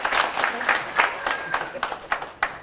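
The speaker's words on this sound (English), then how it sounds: "Y'all give him a round of applause." A school audience claps for a young student at a character awards assembly, a moderate burst of applause with scattered individual claps that thins out over a few seconds.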